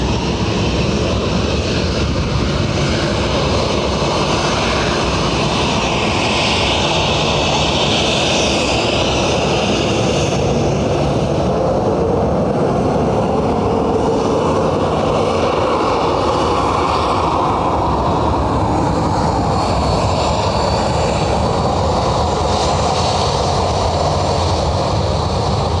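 Turkish Airlines Airbus A330 jet taking off at Dublin airport, a steady broadband engine roar that holds at a fairly constant level throughout, with no one talking over it.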